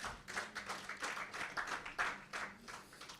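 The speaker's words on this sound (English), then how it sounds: "Let's give them a round of applause." Steady applause from a crowd at the launch of a Highlife music centenary celebration, many hands clapping at once in a continuous dense wash, moderately distant, with no voices over it.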